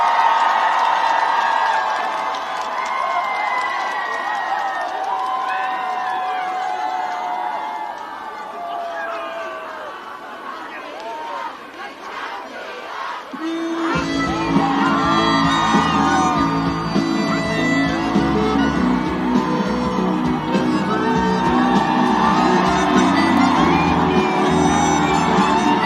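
Outdoor festival crowd at a seafood expo stage whooping and cheering as a trot singer is welcomed, with a host's amplified voice over it, then band music starting loudly under continued cheers.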